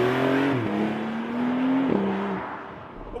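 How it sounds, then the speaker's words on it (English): A 2021 Porsche 911 Targa 4S Heritage Edition (992) pulls hard with a loud induction roar that climbs, shifts twice and keeps rising, then fades away over about three seconds. "the induction noise this thing makes is nothing short of sensational"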